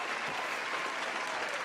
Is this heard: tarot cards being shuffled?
no